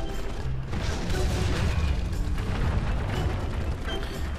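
Heavy mechanical grinding and creaking from a walking mech in War Thunder's April Fools event, a dense continuous rumble with ratcheting clanks and low booms, steady and loud throughout.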